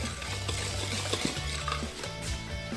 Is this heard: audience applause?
no